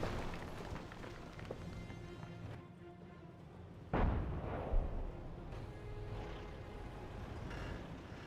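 Self-propelled artillery fire in Company of Heroes, a World War II strategy game, over a low background of battle noise, with one loud, sharp boom near the middle and a smaller thump just after.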